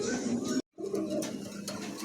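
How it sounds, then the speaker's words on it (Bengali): Pigeons, including a Lahore breed male, coo softly and repeatedly nearby in a pigeon showroom, with a brief moment of silence partway through before the cooing resumes. "মার্শাল্লাহ, দেখার মতন কবুতর"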